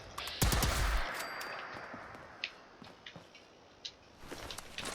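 A weapon fires in the video game Fallout 76, opening with one loud sharp shot followed by several fainter, scattered clicks and pops, then a rising noise toward the end.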